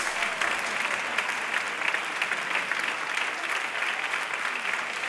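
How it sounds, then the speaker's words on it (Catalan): Audience applause at a book presentation event for a memory workshop, a steady, dense wash of many hands clapping that holds evenly throughout without pause. "I podeu anar aplaudint, que és gratis."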